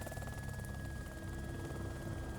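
Helicopter in the video game DayZ, a steady low rotor drone with a thin high whine running continuously at moderate level, no talk over it.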